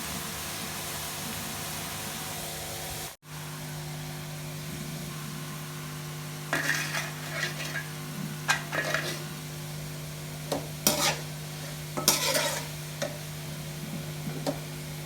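Arvi and mutton frying in a pan are stirred, giving scraping, clattering bursts over a steady low hum and faint sizzle, with the stirring strokes starting a few seconds in and recurring irregularly.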